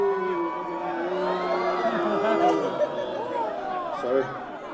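A live concert audience at a show in San Diego whoops, chatters and cheers in a loose, swelling wash, with scattered shouts rising above the steady crowd noise.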